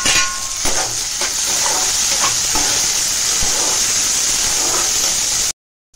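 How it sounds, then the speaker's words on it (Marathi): Loud, steady sizzling as chili and tomato sauté in a hot pan, with scraping stirs and utensil clinks throughout, ending abruptly in silence. "त्याच्यामध्ये मिरची आणि टोमॅटो टाकूया। तो चांगला परतून घेऊया।"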